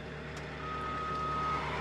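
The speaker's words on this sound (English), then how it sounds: "I get tired of hearing the alarm, I can turn off the alarm" A Bobcat E60 excavator's reversing alarm beeps steadily in a repeated tone over a low, continuous engine rumble, with no talking.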